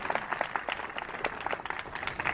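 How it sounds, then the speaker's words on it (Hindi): Applause from an audience at a Swachh Bharat Mission public meeting in Shahjahanpur, greeting the DPRO: a steady, dense patter of many hands clapping close by, with no talk over it. "इनके लिए आप लोग जोरदार तालियां बजा दीजिए एक बार"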